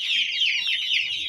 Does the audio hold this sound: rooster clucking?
yes